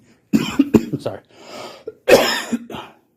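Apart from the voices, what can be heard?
coughing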